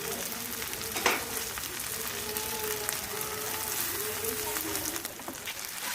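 Homemade noodles with garlic, dried chilli and tomato sauce are stirred in a hot pan, a steady close sizzle and hiss with scraping spatula strokes throughout.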